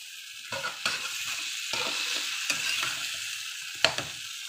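Okra and masala sizzle steadily in a hot pan while a utensil stirs and scrapes through them, with irregular clacks against the metal over continuous frying hiss, close and with no talk.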